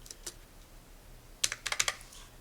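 A few clicks on a computer keyboard, first two isolated taps, then a quick cluster of about six keystrokes, close and crisp against a quiet background.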